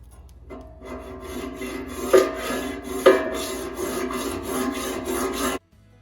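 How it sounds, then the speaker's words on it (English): A hacksaw cuts through a threaded steel drain plug bung on a sheet metal LS oil pan, giving close, raspy back-and-forth strokes that swell gradually, with a couple of sharper catches, then stop. "I'll use a hacksaw or a cut-off wheel on a grinder to cut that off."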